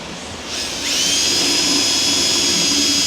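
A power drill bites into the oil pan gasket of a Chevy Express 2500 with a 6.0 engine and multiple oil leaks, rising from a softer whir into a loud, steady high-pitched whine held to the end.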